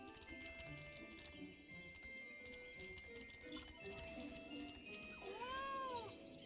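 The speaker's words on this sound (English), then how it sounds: "it meows every time you dismount" A game mount in Final Fantasy XIV gives a single clear cat meow near the end, after quiet in-game ambience and soft ticking.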